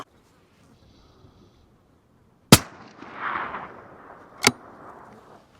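A 22 Creedmoor rifle fires two sharp, loud shots about two seconds apart during a group at the range. Each crack is followed by a brief rumbling echo over a quiet outdoor background.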